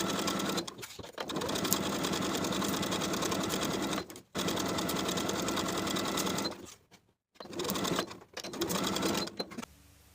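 A sewing machine stitches the outer edges of a shirtdress collar in long, steady runs of rapid mechanical whirring, broken by short pauses and a longer stop before it starts again.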